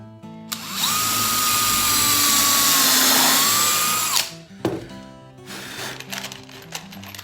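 A power drill drives a screw, a loud rising whir that holds for several seconds and winds down, followed by clicks and the clatter of handling parts.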